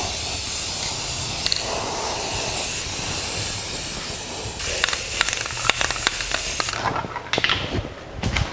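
Spray gun hissing paint onto the firewall of a 1949 Chevrolet gasser, a long continuous close spray that breaks into short bursts and clicks near the end.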